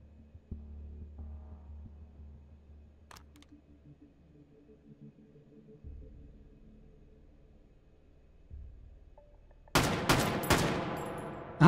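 FN FAL battle rifle fired in Hot Dogs, Horseshoes & Hand Grenades on a custom hallway map, a few sharp, loud shots in quick succession near the end after quiet low hum and handling clicks.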